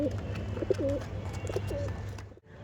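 A ready-to-breed pair of Madrasi Kaldam pigeons coo softly at close range in a few low, rolling phrases against a steady hum of background noise.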